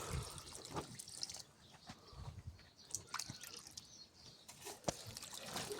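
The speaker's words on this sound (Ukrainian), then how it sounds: "Набрав ось літрова кружка води і по пів літри під кущик." Water diluted with saltpeter fertilizer is poured from a one-litre mug onto plants in a greenhouse, giving faint, intermittent splashing and trickling against soil over soft background rustle.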